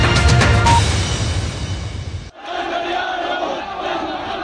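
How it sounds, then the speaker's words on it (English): A large protest crowd near the US Embassy in Cairo shouts and roars loudly and close, the noise cutting off abruptly midway before a more distant, diffuse crowd din takes over. "Hundreds demonstrated near the US Embassy in Cairo"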